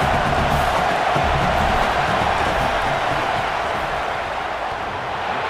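Crowd noise in a stadium during a field goal attempt in a College Football video game, LSU against Auburn, a steady, loud, dense roar that holds for the whole stretch without a break.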